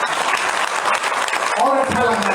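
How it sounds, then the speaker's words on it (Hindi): Dense, continuous applause from a crowd at a Hindi poetry gathering fills the whole moment, loud and close, with a louder swell toward the end. "तालियां थोड़ी और बजा दीजिए,"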